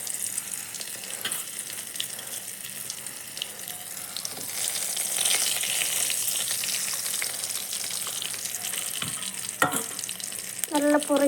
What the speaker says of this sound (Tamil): கடுகு, கடலைப்பருப்பு, உளுத்தம்பருப்பு, ஜீரகம் சேர்த்துக்கலாம். பொரிஞ்சி வர பார்த்து காஞ்ச மிளகாய், கருவேப்பிலை